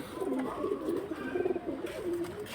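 Pigeons coo steadily and close by in a pet-pigeon sale setting, soft throaty calls repeating through the whole stretch with no talk.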